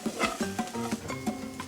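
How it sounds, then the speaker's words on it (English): Onion and flour get whisked in a pot: a quick, rhythmic scraping and stirring, close and fairly soft, with a tonal hum running underneath. "you wanna begin to whisk this around"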